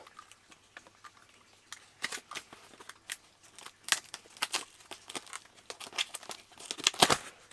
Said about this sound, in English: I've got to cut around this tape